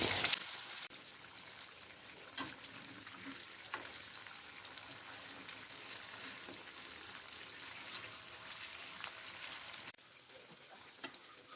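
Tofu and tempe bacem frying in hot oil, giving a steady, dense sizzle with occasional pops and crackles that runs through the whole stretch, close by and without talk.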